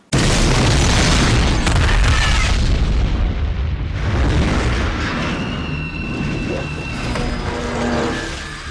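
A controlled bus bomb blast staged for the film The Foreigner erupts in a sudden, very loud boom, followed by several seconds of rumbling roar and debris that slowly fades.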